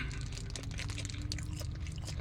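Someone chews soft, freshly steamed sticky rice close to the mic, producing steady moist mastication sounds with soft, continuous crunchy clicks and no talking.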